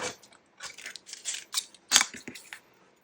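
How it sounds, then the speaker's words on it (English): Scissors cutting out paper cards, with a close series of crisp snipping and rustling cuts coming in short irregular bursts, separated by brief pauses. "Okay, so I'm just going to cut these out."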